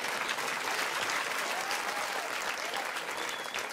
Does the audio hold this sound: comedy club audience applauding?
yes